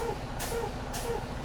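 A truck's air brakes are pumped repeatedly during a roadside inspection, giving sharp bursts of air hiss at a steady rhythm over a low, constant idle with faint tones.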